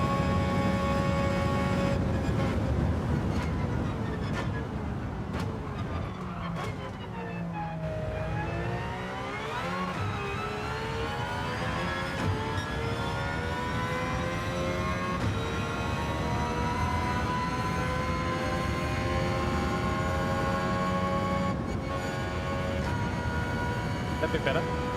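Gran Turismo 7 racing game audio: continuous car engine drone whose pitch sweeps up and down as the car accelerates and shifts, loud and steady throughout, with a voice over the top.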